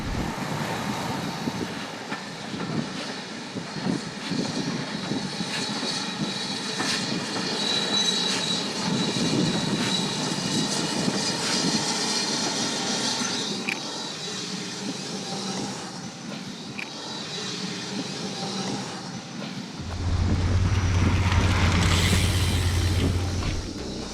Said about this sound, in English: I can hear a train coming down the hill now.